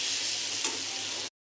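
Banana flower and prawn curry with cumin and chili powder sautés in a pan, giving a loud, steady sizzle with a faint stirring scrape before it cuts off abruptly.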